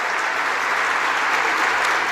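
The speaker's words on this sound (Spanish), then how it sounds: "les pido que a todos le demos un fuerte aplauso de reconocimiento." Audience at a Spanish-language forum on artificial intelligence claps for the panelists, a dense, steady burst of many hands filling the room without a break.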